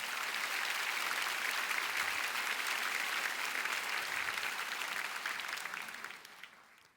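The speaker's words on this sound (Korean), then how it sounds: "하나님께 영광의 박수를 올려드리도록 하겠습니다" A congregation applauds during a church prayer service, a broad, even roar of clapping that stays strong for several seconds and then tapers off toward the end.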